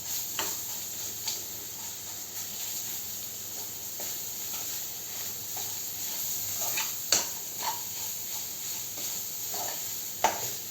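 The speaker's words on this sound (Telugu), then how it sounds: "ఓకే, పోపు వేగిపోయింది. ఇప్పుడు దీంట్లో మనం ఇది వేసేసుకుందాం." Soft, steady sizzling of a tempering of spices frying in a pan for goruchikkudu (cluster bean) curry, with occasional sharper crackles and pops standing out over the low hiss.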